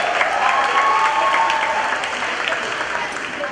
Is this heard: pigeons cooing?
no